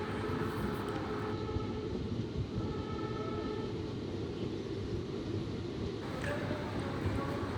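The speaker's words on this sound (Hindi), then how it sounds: "जंगल के अंदर से अभी ट्रेन हमारी गुजर रही है" A train rolls through dense forest near Gular Bhoj on the Kashipur–Lalkuan line, where electrification masts stand. A continuous low rumble of wheels and cars holds steady throughout, with faint higher tones drifting over it.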